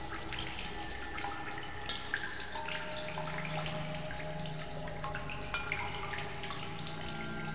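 Water pours steadily into empty bottles in The Solus Project, a continuous tap-like gush with faint drips and gurgles, close and unbroken throughout.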